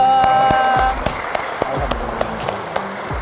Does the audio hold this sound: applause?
yes